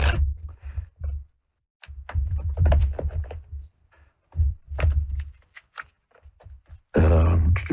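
A tarot deck is shuffled close up in bursts of papery riffling and soft taps, with short pauses between, ending in a final dense riffle.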